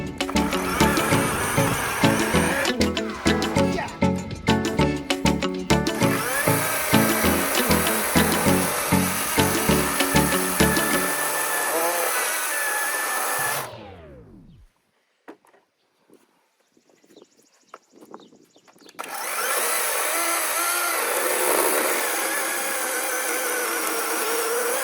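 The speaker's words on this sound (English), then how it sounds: "that was a really dangerous way to go about cutting with a chainsaw." A chainsaw cuts wood while building a kid's tree fort, a loud steady engine drone with rough cutting bursts that winds down and cuts off, then after a quiet gap the saw roars again at full throttle.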